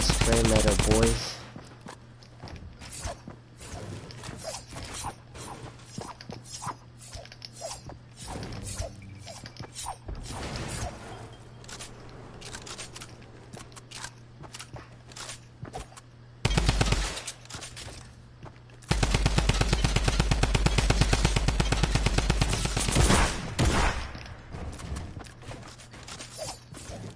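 Shotgun fire in a video game, repeated sharp shots and mechanical clacks scattered among game noise, with a sustained loud burst of firing in the latter half; a voice talks at times between shots.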